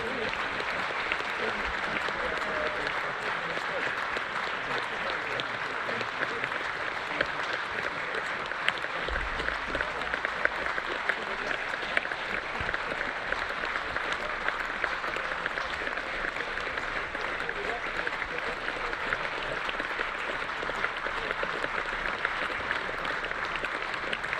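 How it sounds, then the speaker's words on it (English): A rugby stadium crowd gives a minute's applause in memory, steady sustained clapping from many spectators throughout, even and continuous at a distance. "A minute's applause for Dr. Noel Dewar, who sadly passed away."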